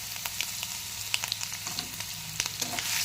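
Chopped garlic sizzles in hot oil in a pan as a steady crackling fry, with small pops and light stirring scrapes scattered throughout.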